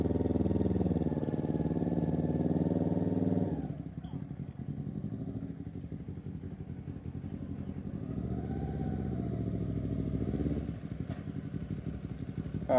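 A motorcycle engine idles and revs at low speed during U-turn practice on a road, louder at first, then settling to a steady lower rumble with a couple of gentle rises; close by, with no talking over it.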